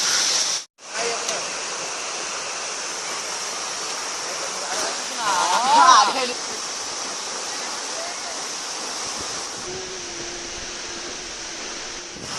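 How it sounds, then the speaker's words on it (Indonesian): Bedegung waterfall in Indonesia roars in a constant broadband rush, close and steady, with a voice briefly rising in the middle. "akhirnya kita sudah sampai di air terjun Bedegung"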